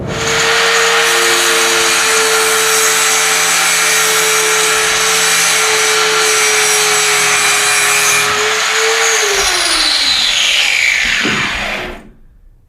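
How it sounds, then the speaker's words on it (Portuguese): A metal workpiece is cleaned with a loud power tool before submerged arc welding: a steady, close, high whine runs for about eight seconds, then winds down in pitch and cuts to silence. "Isso que eu estou fazendo aqui, limpando essa peça, é um dos procedimentos que o operador vai ter de seguir"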